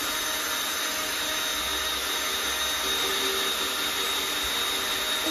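Power drill boring into wood while building carpenter bee traps, a steady loud whine held without a break for several seconds, close by and with no voices.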